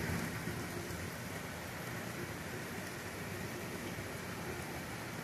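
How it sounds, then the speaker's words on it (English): Heavy summer downpour in Ottawa's Little Italy over Gladstone Avenue, a dense continuous roar of rain hitting surfaces with no thunder, steady and even throughout. "No lightning, just rain."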